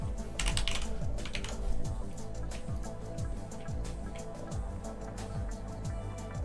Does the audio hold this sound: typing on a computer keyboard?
yes